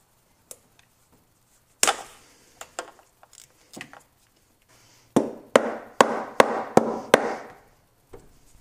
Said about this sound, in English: use a mallet to gently loosen the valve cover